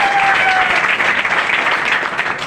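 An audience at a business seminar claps loudly and steadily, a dense, close burst of applause that fills the whole moment without pause.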